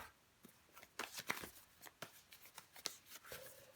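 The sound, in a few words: handling and shuffling tarot cards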